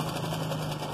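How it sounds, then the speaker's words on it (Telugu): A sewing machine runs steadily while stitching a six-month baby's langa jacket, giving a quiet, even motor hum with a low mechanical drone, brief and uninterrupted. "ఇలా ఈజీగా తొందరగా కుడుతూ ఉంటాను"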